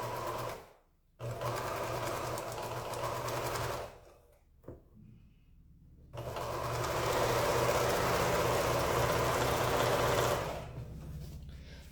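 A sewing machine stitches quilt pieces in two long, steady runs with a whirring hum, separated by pauses with small clicks and handling noises.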